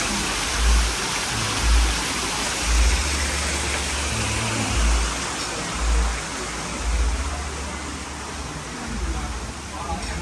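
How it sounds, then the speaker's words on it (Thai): A waterfall at an outdoor restaurant gives a steady, broad rushing hiss, with a person talking over it in low, recurring bursts. "บรรยากาศฟังเสียงน้ำตกเนี่ยเสียงน้ำตกมาจากตรงนี้นี่เอง"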